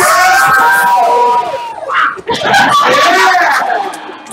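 A live game show audience cheers, screams and shouts for a contestant, loud and sustained with a brief dip midway, while a host talks over the noise.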